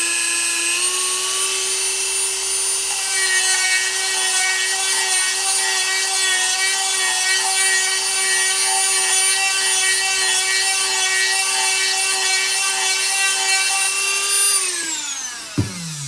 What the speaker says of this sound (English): This plastic is pretty soft, so I'm pretty sure this Dremel could just eat right through it